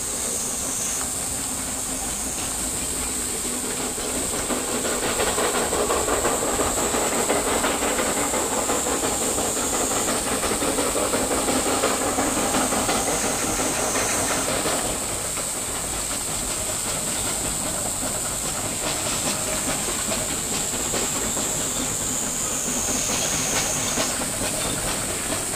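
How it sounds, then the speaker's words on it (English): Steam locomotive on the Yinghao coal railway in China, a loud sustained hiss of steam with chuffing and rolling rail clatter as the train passes nearby, continuing for the whole stretch without talk. "In mid-shift, the main train loco goes to Lianghua for water."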